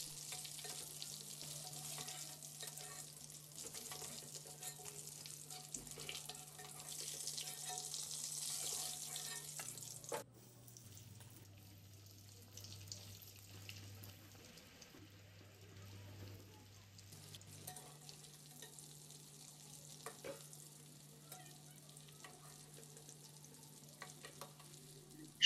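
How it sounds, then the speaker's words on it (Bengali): Prawn chops for a Bengali chingri chop snack crackle in hot oil, a steady close sizzle that softens after a short pause midway before resuming at a lower, even level. "এবার এক এক করে তুলে নেব, আর এইভাবেই সব চপগুলো ভেজে নেব।"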